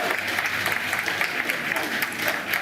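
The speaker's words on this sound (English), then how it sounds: "you can hear the applause as he enters number 10 as Prime Minister" Dense, continuous applause from a gathered crowd as the new Prime Minister Rishi Sunak enters Number 10, many hands clapping at once, loud and steady throughout.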